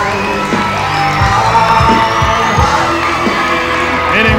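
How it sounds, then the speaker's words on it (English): A crowd at a wrestling event in the Sportatorium cheers and whoops continuously, loud and dense, with shouts rising over a steady roar and music underneath. "Meeting with the accolades of the crowd here at the Sportatorium."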